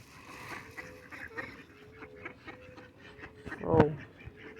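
Ducks being fed by hand near the water give soft, scattered quacks and honks, ending in one louder, sharper call near the end; no one speaks over them.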